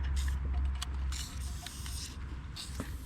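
A steady aerosol spray of WD-40 lubricant hisses in short bursts close by on a 70-year-old Fichtel & Sachs Stamo stationary engine, with faint clicks and handling noise between them.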